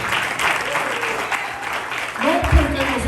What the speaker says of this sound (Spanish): ¿Cuántos le dan un aplauso a Cristo?